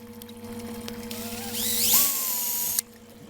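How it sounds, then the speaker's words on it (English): A power drill boring a pilot hole in boat fiberglass whines up in pitch for a second or two, then cuts off abruptly, over a quiet background hum. "So the next thing to do is to use a drill bit and screw a hole right there as a pilot."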